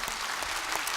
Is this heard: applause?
yes